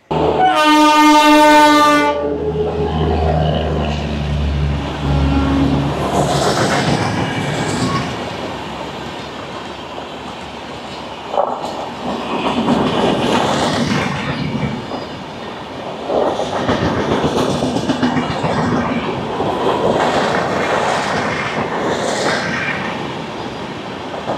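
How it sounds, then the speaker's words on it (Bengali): The Vivek Superfast Express from Kanyakumari to Dibrugarh opens with a loud multi-tone horn blast, then thunders past at speed with rhythmic clattering wheels and rumbling coaches, loud and close throughout. "ওদিক থেকে ঝড়ের গতিতে ধেয়ে আসছে ট্রেন নাম্বার 22-503 কন্যাকুমারী থেকে ডিব্রুগড় বিবেক সুপারফাস্ট এক্সপ্রেস"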